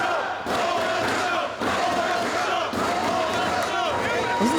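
A wrestling crowd in Coral Springs chants and claps in rhythmic bursts, loud and reverberant, with an announcer talking over it.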